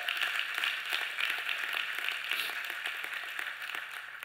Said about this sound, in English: give the Lord a hand clap today